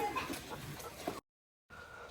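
Chickens roaming loose by day on a goat farm cluck in short, scattered bursts close by, then fall silent briefly before quieter farmyard ambience resumes.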